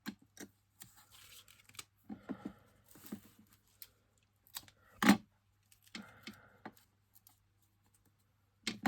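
Scissors snip through double-sided tape in a few quiet, separate cuts and crinkles close by, with rustling and handling noises between them and one louder snap partway through.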